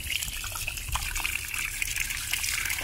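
Clear well water pours steadily from a hose in a garage cellar, a continuous close trickling gush with no talking.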